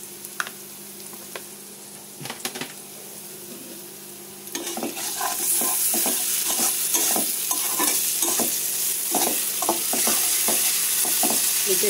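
A spice paste of ground onion, ginger, garlic, coriander and cumin fries in a pan. A soft sizzle swells louder halfway through, while a spoon scrapes and stirs in quick, repeated strokes close by.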